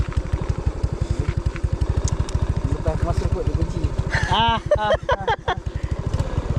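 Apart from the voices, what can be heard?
motorcycle engine running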